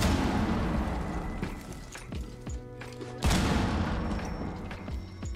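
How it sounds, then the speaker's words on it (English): Impact grenades exploding in Rainbow Six Siege, two loud booming blasts a few seconds apart, each followed by crumbling debris and ringing decay. "He also comes with impact grenades."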